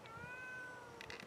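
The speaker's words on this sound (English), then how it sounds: "Why are you on the roof? How are you gonna get down? Oh, there's a tree right there. You're a cat." A cat up on a roof lets out a single drawn-out meow, faint and somewhat distant over a steady outdoor hiss.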